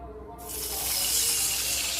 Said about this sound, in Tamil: தண்ணி ஆட் பண்ணிட்டோம்.